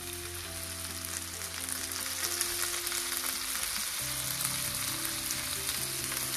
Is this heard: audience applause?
no